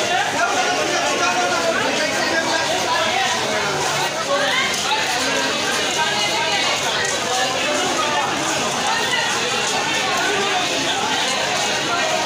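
A huge crowd fills Jamalpur railway junction, a dense, steady wash of overlapping voices and chatter with scattered footsteps and movement, holding at an even loudness throughout.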